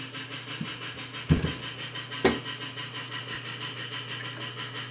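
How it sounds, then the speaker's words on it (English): A basement sump pump hums steadily in the background, a constant low motor drone with two brief knocks, heard indoors at moderate loudness. "You guys probably heard my sub pump."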